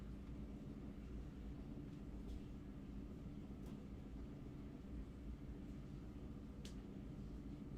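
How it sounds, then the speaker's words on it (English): A washing machine runs in the background at home, a low, steady rumbling drone that stays constant and faint, with a few soft clicks and no speech. "That is our washing machine."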